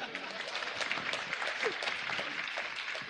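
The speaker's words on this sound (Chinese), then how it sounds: "来，鼓掌。" An audience at an onstage business dialogue event applauds softly, a continuous, fairly distant rustle of clapping with some voices underneath.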